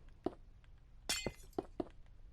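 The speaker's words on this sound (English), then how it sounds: "Fill in the top with black stained glass blocks." Black stained glass blocks placed in Minecraft make short, quiet glassy clinks and taps, about five separate hits, with one brighter crackling burst in the middle.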